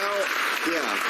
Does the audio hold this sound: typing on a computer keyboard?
no